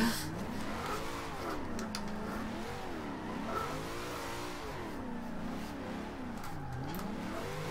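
A Datsun drift car's engine revs steadily and loudly in Forza Horizon 2, rising and falling in pitch through continuous drifting with faint tire scrub, no talking.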